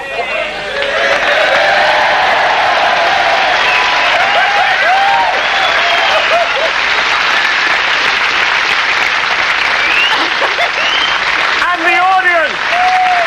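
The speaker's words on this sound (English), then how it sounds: "the audience shall applaud spontaneously" Studio audience applause on a live comedy show, a loud, dense wall of clapping that swells quickly and holds steady throughout, with some cheering and crowd noise mixed in.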